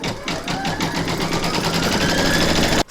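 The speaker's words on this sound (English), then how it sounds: "Load file A into your machine and then stitch round number 1" Embroidery machine stitching a batting placement outline in a hoop, a steady rapid mechanical rattle of the needle, close and continuous, cutting off abruptly at the end.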